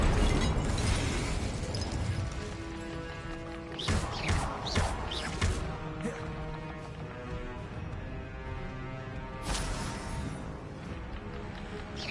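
The Incendio fire spell in Hogwarts Legacy on PS5 bursts in crackling, shattering blasts over a sustained musical score, with sharp hits near the four-second mark and again close to ten seconds.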